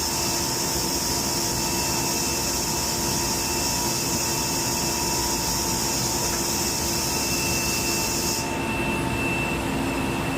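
Steady, loud styrofoam factory machinery drones with a constant whine and high hiss; the hiss cuts off abruptly near the end while the hum continues.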